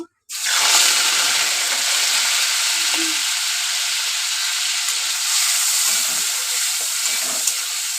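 Prawns dropped into hot oil after a cumin tempering, bursting into a loud, close, sustained hissing sizzle that starts abruptly after a brief silence and holds steady to the end.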